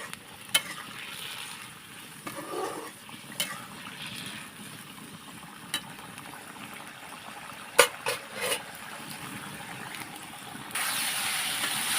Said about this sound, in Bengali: এখন দেখুন আমি কড়াইয়ের মধ্যে 5 মিনিটের মতন ভালোভাবে এটা আরও কষে নেব।